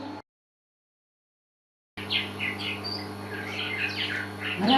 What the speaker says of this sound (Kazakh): Ол қарлығаш құсы.